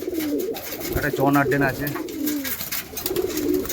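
Pigeons coo in soft, repeated throaty calls nearby, mixed with someone talking over them.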